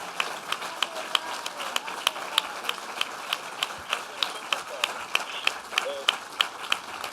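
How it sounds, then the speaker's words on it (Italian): Sparse applause from an audience at an Italian talk event, with scattered distinct claps over a quiet murmuring room, fairly distant and subdued, with voices faintly under it. "Un attimo che finisce l'applauso e ti ripassa"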